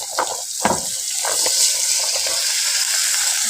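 Carrots drop into a hot pan for acar kuning with bay leaves, setting off a wet sizzle and scraping stir strokes that clatter close by, a brief voice heard early.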